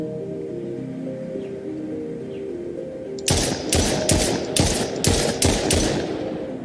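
Gunfire shooting at a bot in an Unreal Engine 4 game, a rapid burst of about seven loud sharp shots after a few seconds of quiet ambient tones.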